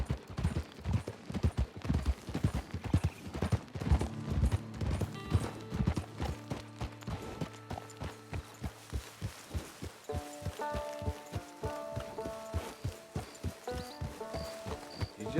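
Horse hooves clip-clop in a steady, even rhythm in Red Dead Redemption 2, up close and clear, while soft game music with sustained tones rises underneath.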